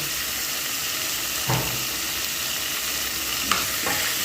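Chicken frying in a pan is stirred, a constant loud sizzle with a couple of brief scraping stirs of the utensil against the pan.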